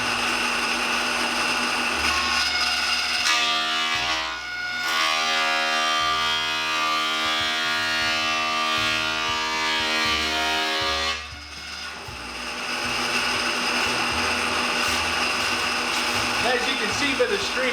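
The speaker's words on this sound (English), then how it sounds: "The planer self-feeds." Power planer self-feeding pallet boards, a loud sustained motor whine with strong harmonic tones that steps up as the wood feeds through, briefly easing around four and eleven seconds, with clattering chip noise throughout.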